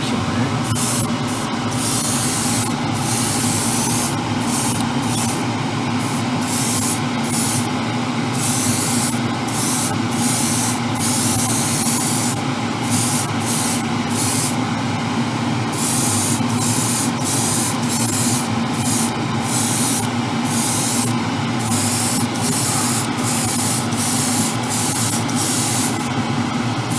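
Paint is sprayed onto the bodywork of an Alpha Model Ferrari 812 Superfast kit in many short, sharp bursts of hissing spray, some longer than others, close and loud over a constant background hum, with no speech.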